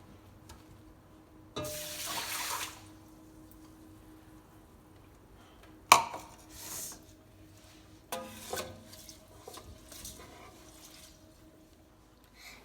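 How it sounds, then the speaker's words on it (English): Water pours into rice in a pot for Portuguese arroz doce, a short splashing pour followed by clinks and stirring sounds, close and moderately loud with quiet gaps between. "Next, you put the water into the rice and then give it a little mix."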